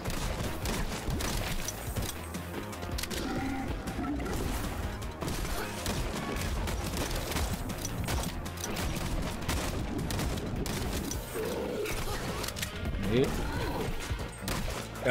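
Enemies burst into junk in the side-scrolling shooter Blast Brigade, their explosions mixed with steady weapon fire in a dense, continuous wash of game noise that stays loud throughout.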